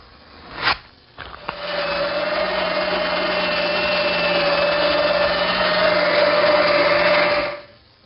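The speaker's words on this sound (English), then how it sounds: "give the entire surface some sanding" A steady, loud power sander whines with a constant tone on a wooden toy chest surface for several seconds after a couple of short bumps, then stops.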